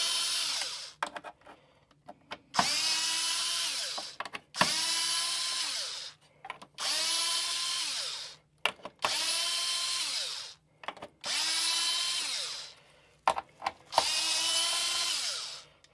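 A power driver backing screws out of the instrument cluster board of a 1984–1989 C4 Corvette, a series of whirring bursts of a few seconds each separated by short pauses and small clicks, close and loud.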